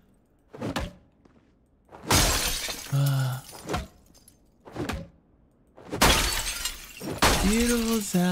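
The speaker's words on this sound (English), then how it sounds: "Beautiful sounds of glass. Breaking in my ears." Repeated glass smashing in the video game Project Zomboid, with four or five bright, crashing breaks spread across the stretch. Each is followed by a short ringing tail, with softer thuds and quiet gaps in between.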